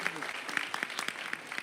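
Short burst of applause from a church congregation, distinct individual claps in a loose rhythm with a voice faintly underneath.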